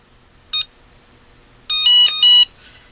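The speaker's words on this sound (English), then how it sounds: "One thing I do not like is the obnoxiously loud beeps these devices make." Loud electronic beeps from a DH30 spot welder: one short tone, then a longer run of piercing multi-tone beeps in quick succession, close and harsh, with no talking.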